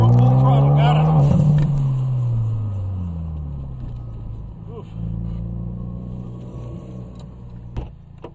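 A car at full throttle at a driving school track, its engine roaring loud and close, the pitch sweeping up as it accelerates and then settling into a steady drone, with people talking over it.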